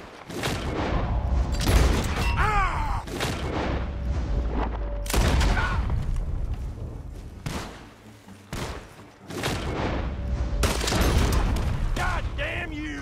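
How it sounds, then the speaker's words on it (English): Gunfire in the video game Red Dead Redemption II at a barn, with repeated loud shots and booming volleys in bursts, mixed with in-game shouting and commotion. "The gunshots are coming from that barn!"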